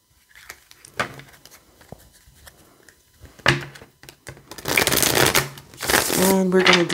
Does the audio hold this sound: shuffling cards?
yes